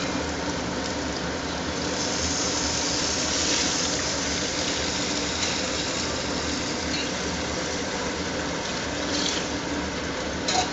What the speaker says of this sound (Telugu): చూడండి, వాటర్ పోస్తున్నాం.